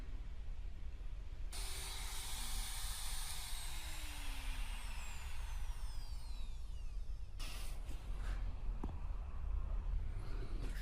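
Shaper Origin handheld CNC router cutting out a marquetry piece: a steady, loud broadband whine and hiss running without a break, with a short burst of extra noise toward the end.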